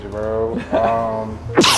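A single sharp sneeze bursts out near the end, close and loud, right after someone talks briefly in a casual podcast-style conversation.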